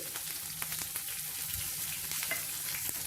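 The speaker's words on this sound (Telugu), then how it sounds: "ఈ ఉల్లిపాయ ముక్కల్ని ఒక 2 నిమిషాలు ఫ్రై చేసుకోవాలి" Chopped onion, green chillies, dried red chilli and curry leaves frying in oil, a steady close sizzle with soft crackles and occasional stirring clicks throughout.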